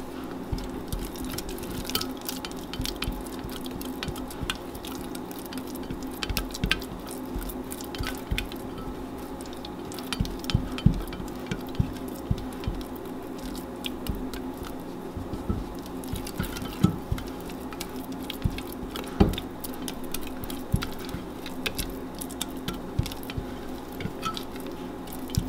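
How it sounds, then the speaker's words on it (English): Spelt sourdough starter being scraped and stirred in a bowl, soft wet squishing and patting close by, steady and continuous with small sticky clicks throughout and no voices. "can scrape the sides down so that you make sure that you've incorporated all the dry and the wet together."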